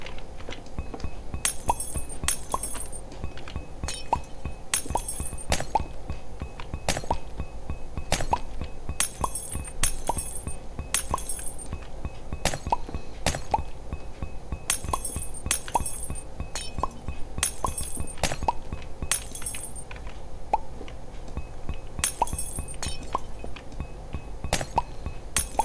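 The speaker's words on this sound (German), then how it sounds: "Ach ja, das schöne klirrende Geräusch von Glas." Glass blocks are broken one after another in Minetest, giving bright, sharp clinking shatters in quick irregular bursts over a steady low background hum, repeating throughout.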